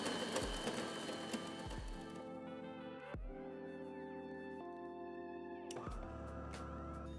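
A De'Longhi bean-to-cup espresso machine brews a double espresso: a steady mechanical whir and pumping hum with intermittent knocking thuds and grinding bursts, close and continuous throughout.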